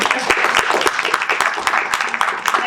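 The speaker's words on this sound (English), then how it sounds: "Give her a round of applause, Miss Gervais." Close, loud applause from a reception audience welcoming a speaker at a closing event, with individual sharp claps standing out over a steady crowd clatter.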